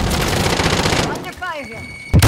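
Video game gunfire opens as a steady, loud stream of rapid shots, then fades under a voice calling out. A sharp final blast closes the moment.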